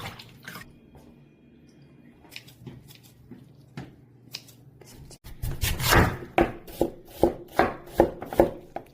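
Soaked dried pollack is squeezed by hand, first with quiet scattered drips, then a run of loud, rhythmic wet squelches close up, each squeeze pressing out water.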